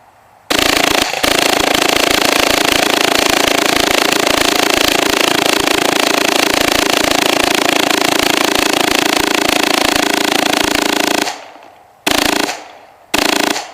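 A Phenom paintball marker fires a long full-auto burst, a loud, dense, continuous rattle of shots lasting about eleven seconds before it stutters into a few short final bursts and stops.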